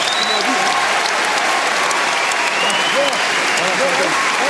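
Loud, sustained applause from a large audience at a boxing match, a steady wash of clapping with no break.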